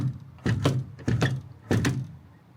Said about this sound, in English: Hopefully the door's open because I've not brought my keys today.